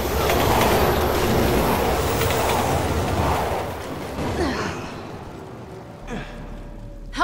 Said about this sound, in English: Train's coming!